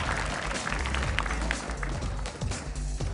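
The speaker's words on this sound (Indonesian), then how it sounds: "mari berikan tepuk tangan untuk pembawa acara kita, Christian Sugiono" A studio audience at an Indonesian televised quiz show claps for the host in a dense, continuous wash of applause that stays steady throughout.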